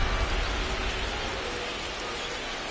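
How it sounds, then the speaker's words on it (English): Steady rain pours down over a baseball game in MLB The Show 25, a dense continuous hiss that stays loud and even throughout with no talk over it. "This rain is not letting up."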